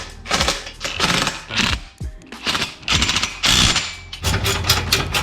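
Exhaust bolts being tightened on a Yamaha Bolt motorcycle, heard as loud, close bursts of rapid ratcheting clicks separated by short pauses.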